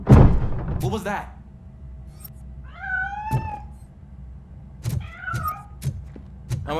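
A cat meows a couple of times in the RoboCop: Rogue City video game, with short, clear cries between thuds and low background game ambience.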